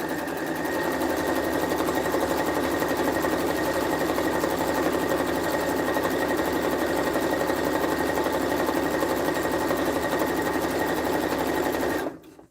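A sewing machine stitches a patchwork duffle bag in a steady, rapid mechanical whir that runs loud and unbroken for about twelve seconds, then stops abruptly.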